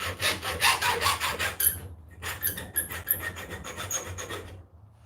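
Hand file working a freshly cut metal piece on a workbench: close, rhythmic rasping strokes in quick succession, pausing briefly midway before resuming and tapering off, with no talking.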